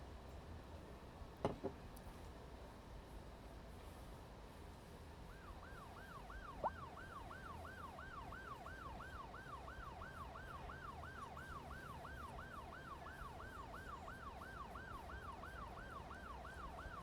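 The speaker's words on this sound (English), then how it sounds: "I am not listening to that ambulance this whole time." A wailing ambulance siren in the game Cities: Skylines 2 rises and falls steadily over a constant background hum, with a couple of sharp clicks early on.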